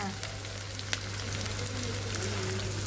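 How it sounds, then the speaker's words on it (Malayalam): Small shallots sizzling in hot oil in a pan while cooking a prawn theeyal, a quiet, steady crackling fry with occasional sharper pops, faint and close, with a low hum underneath. "ഇനി നമ്മൾ കൊച്ചുള്ളി ചേർത്ത് കൊടുക്കാം"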